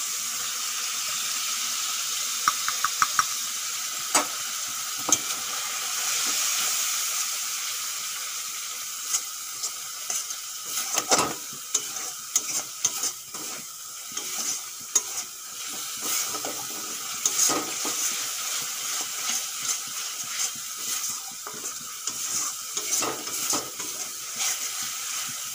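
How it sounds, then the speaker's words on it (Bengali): Ginger, garlic, onion and tomato sizzle and fry steadily in a pan for okra curry, with scattered clicks and scrapes of stirring as ground spices go in; no one speaks. "আদা রসুন পেঁয়াজ টমেটো ভালো করে কষানো হয়ে গেছে, এখন দিয়ে দেব গুঁড়ো মশলা"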